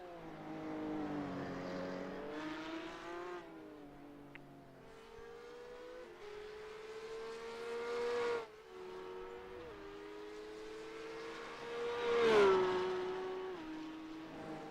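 A Porsche Cup race car engine drones steadily through a lap, its pitch climbing and dropping with several gear changes and a sharp rise near the end, loud and continuous with no talk.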